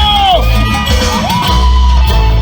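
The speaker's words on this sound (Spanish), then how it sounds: "¡Chicas, un grito!" A crowd of women at a wedding party lets out a loud, high whooping shout over a tropical orchestra playing in the background, a brief burst of cheering yells.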